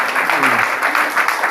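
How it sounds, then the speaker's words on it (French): A church congregation claps steadily throughout, applauding during a worship service, with a voice briefly audible underneath. "Applaudissons pour le Seigneur."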